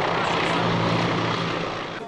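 A T-129 ATAK attack helicopter performing in a flight demonstration, its loud, steady rotor and engine roar filling the whole stretch and easing slightly toward the end.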